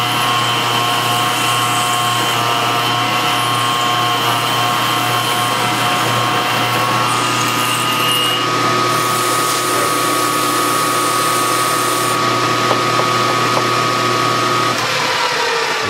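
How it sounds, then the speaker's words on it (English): A milling machine drives a roughing end mill through a metal block in a deep cut, giving a loud, continuous, steady grinding whine with a constant motor hum underneath, close up and without talk. "I roughed a little over 700 thousandths off of that block in that amount of time"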